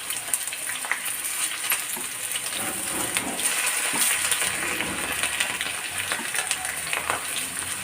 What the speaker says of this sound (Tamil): அந்த எண்ணெயிலே நல்லா வெந்துக்கிறோம்